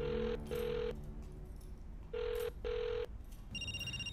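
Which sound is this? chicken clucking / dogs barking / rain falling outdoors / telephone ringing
telephone ringing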